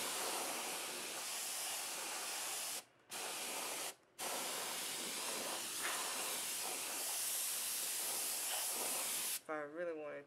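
A can of compressed air sprays to clean out a computer, giving a loud, continuous close hiss with two brief pauses between long bursts.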